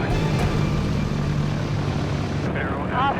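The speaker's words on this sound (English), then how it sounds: "We'll do a wheel landing" A small plane with a droning propeller engine rolls in for a wheel landing in freezing conditions, the engine loud and close throughout, with a brief tonal whine near the end.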